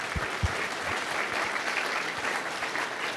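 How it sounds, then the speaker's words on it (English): Audience applause at a Bitcoin and Ethereum fintech summit in Canada, a steady wash of clapping from a seated crowd with a few nearby louder claps, moderately quiet and without speech. "So please help me give them a round of applause as well."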